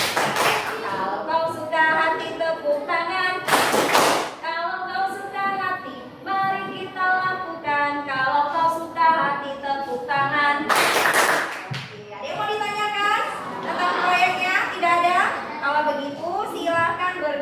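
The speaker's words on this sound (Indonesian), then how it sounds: "Kalau kau suka hati tepuk tangan." Children in a classroom lesson sing an action song and clap along, two sharp group claps standing out about seven seconds apart amid loud sung voices.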